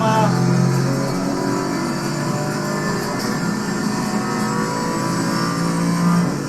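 A GT4 race car in Assetto Corsa Competizione, played on PS5, drones steadily with a loud, continuous engine note that holds a constant rev without pause.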